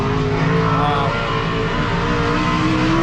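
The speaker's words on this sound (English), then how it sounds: "sorry about the freaking race car in the back." A race car engine at Attica Raceway Park drones loudly and steadily throughout, a close, sustained mechanical roar with no clear passes or gaps.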